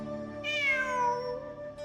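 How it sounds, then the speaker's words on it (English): A single cat in the Genshin Impact game gives one clear, drawn-out meow, close and tonal, rising then falling, alone without talk. "I'm not hearing things. It really is a cat."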